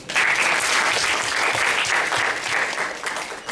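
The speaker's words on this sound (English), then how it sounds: "May we have a round of applause for him." Loud, dense audience applause for a speaker at a talk, a continuous wash of many hands clapping that holds steady for several seconds without voices breaking through.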